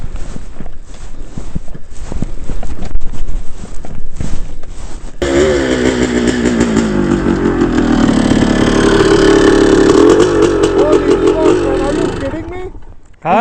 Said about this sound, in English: First gear in this bike's really fast.